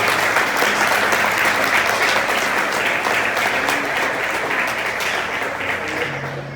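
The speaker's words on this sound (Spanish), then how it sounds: "Si lo crees, dale un aplauso al Señor." Loud, sustained applause from a large church congregation, dense and continuous, slowly tapering slightly toward the end.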